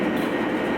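A heritage passenger train on the Adirondack Scenic Railroad, Thendara to Otter Lake, sits with its air brakes charging before a road test, giving a steady loud rushing hiss and rumble close by, with no talk.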